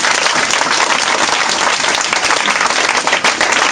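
A church congregation at a worship service applauds loudly and continuously, dense clapping filling the room without pause.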